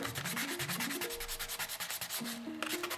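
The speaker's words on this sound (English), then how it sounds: "So you're gonna take the abrasive side and start sanding the controller." Thirty-year-old Super Nintendo controller plastic being sanded with an abrasive pad, rhythmic scratchy rubbing strokes close up, with a rising tonal squeak in some strokes.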